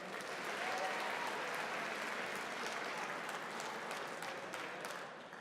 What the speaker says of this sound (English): How about another round of applause for Dr. Mark Ware?